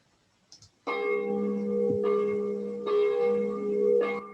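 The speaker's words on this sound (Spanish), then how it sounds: "el peregrino conoce a la perfección el sonido de la campana como llamada" Church bell ringing: sustained, resonant bell tones struck in several overlapping peals that ring out and hang in the air, clear and fairly close after a brief quiet start, with no voices.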